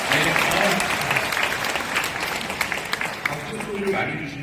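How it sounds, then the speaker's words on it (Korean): Lecture audience applauding a presenter at a health supplement company headquarters, loud dense clapping that gradually thins out, with a voice speaking over it. "박수 주시죠"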